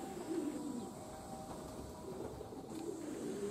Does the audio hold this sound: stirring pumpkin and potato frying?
no